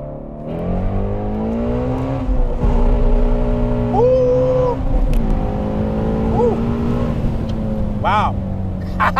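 A Ford Shelby GT350 accelerating through first and second gear, its engine note rising steadily, then dipping at the shift before climbing again, loud and close with someone talking over it.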